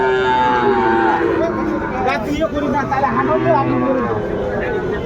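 Sahiwal bull calf mooing at a busy cattle market in Barishal, with the call carrying loudly over a steady background of crowd chatter and talking.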